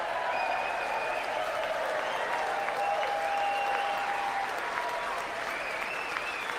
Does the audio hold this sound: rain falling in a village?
no